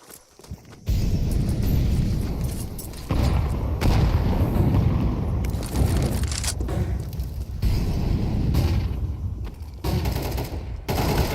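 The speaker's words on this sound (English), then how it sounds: "Flashbangs come in." Flashbang grenades go off during a European Pro League esports match, loud booming bursts amid near-continuous gunfire that runs for several seconds at a time with brief gaps.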